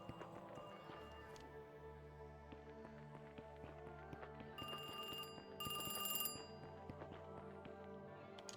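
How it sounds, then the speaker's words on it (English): A telephone rings in short bright bursts, faint and distant, inside a spooky temple scene in a video game, over a low droning ambience. "We can hear the phone ringing in the distance."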